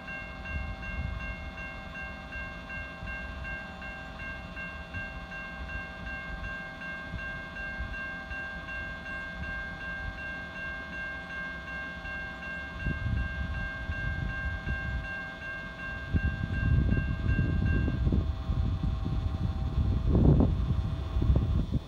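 A CSX freight train rumbles past with a steady droning engine tone, growing louder and rougher near the end as the cars roll by, heard alone in open air.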